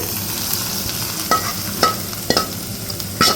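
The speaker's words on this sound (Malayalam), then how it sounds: "ഇതിലേക്ക് നമ്മൾ കടുക് വറുത്തത് അങ്ങ് ഒഴിച്ചു കൊടുക്കുകയാണ്." Tempered mustard seeds poured hot into watermelon-rind pachadi sizzle and hiss steadily, with a few sharp spoon clinks against the pan, close and alone without talk.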